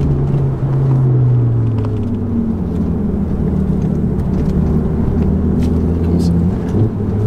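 A Ford Focus RS 500 rumbles steadily while being driven, a continuous low engine drone with shifting pitch inside the cabin, loud and constant throughout.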